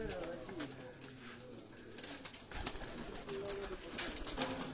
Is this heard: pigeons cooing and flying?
yes